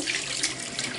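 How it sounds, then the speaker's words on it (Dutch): Warm water runs steadily from a kitchen tap over cups, a continuous close splashing hiss with no voices. "als ik nu deze kraan aanzet"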